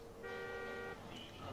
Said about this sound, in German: Warte mal, ich hupe mal